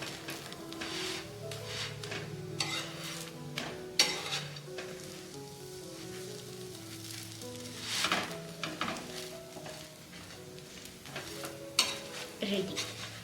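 Chakli pitha fries in a pan with a steady close sizzle, broken by scraping and stirring clicks from a utensil, with faint speech at times.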